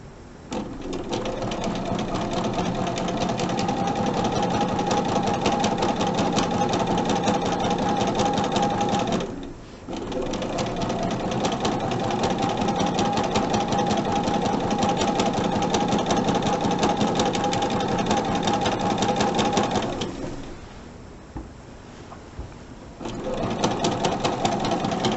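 A sewing machine stitches quilt fabric for flying geese blocks, giving a close, steady mechanical whir that stops briefly, restarts, then pauses again for a few seconds before running once more.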